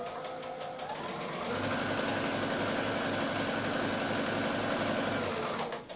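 A sewing machine stitches a quilt block, its motor ramping up into a steady close whir with a fast rhythmic needle chatter before slowing to a stop; nobody talks.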